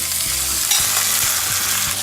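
Roasted pork frying with garlic and onion in a hot pan for Filipino lechon paksiw, a loud close sizzle under regular scraping strokes of a spatula, steady throughout with no speech.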